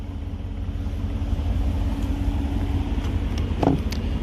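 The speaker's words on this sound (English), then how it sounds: "Here's the exhaust." A 2020 Audi SQ7 with a 4.0L V8 idles at the exhaust, a steady low rumble with a brief light tap near the end.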